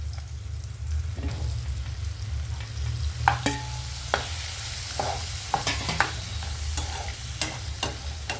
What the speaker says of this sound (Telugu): ఇప్పుడు ఈ టమాటా ముక్కలు వేసుకుందామండి.